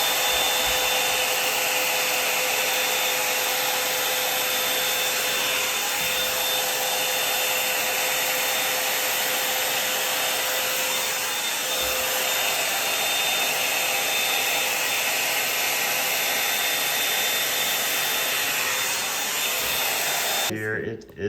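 A hair brush blow dryer runs as a steady, loud whir while straightening sectioned hair, holding constant for about twenty seconds before cutting off at the very end.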